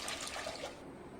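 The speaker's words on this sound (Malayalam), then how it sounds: "കുറച്ച് വെള്ളം ചേർക്കാം" Water splashes and trickles into a pressure cooker holding chopped carrots, a brief close pour that thins out toward the end.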